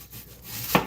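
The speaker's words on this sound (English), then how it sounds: "this is the sweet onion that I'm chopping right here." A knife chops through a sweet onion on a cutting board in a home kitchen, a single sharp close cut standing out from faint background noise.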